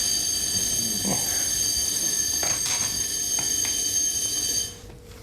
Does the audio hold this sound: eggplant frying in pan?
no